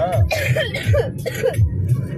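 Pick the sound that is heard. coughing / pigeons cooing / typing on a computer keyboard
coughing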